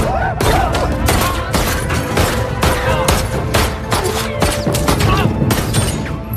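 Loud, close gunshots crack in a rapid, irregular volley during a gangster film shootout at the gang's headquarters, with thuds and impacts mixed between the sharp reports.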